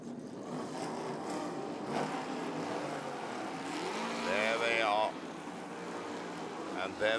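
Race cars in the Asia Le Mans Sprint Cup rolling off behind a safety car at the race start, a distant blended engine roar rising and falling with a rising whine near the end, under a commentator's voice.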